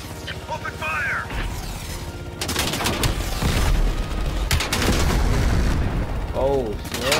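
Gunfire and explosions from the Call of Duty Black Ops Cold War game: after a quieter opening, dense bursts of shots and booms fill most of the stretch, loud and continuous, with no talk.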